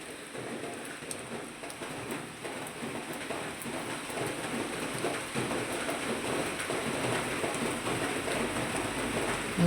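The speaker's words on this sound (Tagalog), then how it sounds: "Ulan gidi ay maulan sa kabuntagon." Steady morning rain falls outdoors, a dense, even hiss of drops on surfaces that grows slightly heavier over time, with no voices.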